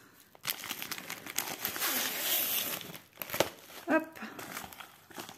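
A packaged diamond painting canvas is unwrapped, its plastic wrapping crinkling and crumpling in bursts close by, with a short spoken word near the end.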